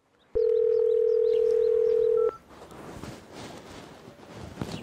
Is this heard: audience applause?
no